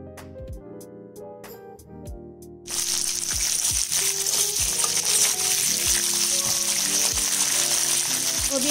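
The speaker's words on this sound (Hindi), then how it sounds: "गोभी आलू को भी हम हल्का सुनहरा होने तक भून लेंगे।" Cauliflower and potato pieces fry in oil toward light golden for a festive no-onion, no-garlic dish. A dense, even sizzle starts suddenly partway through and continues under melodic background music.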